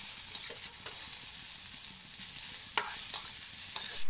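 Chowmein stir-fried in a pan with fried potato and green chillies, giving a steady hiss with a few sharp scrapes of the spatula near the end, close by, with no voices.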